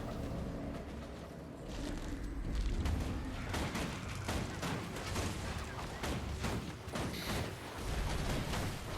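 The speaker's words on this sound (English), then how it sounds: "Nice big explosion there." An explosion in the Guild Wars 2 video game, heard as dense, continuous booming and crackling battle noise with repeated sharp blasts layered over a steady roar.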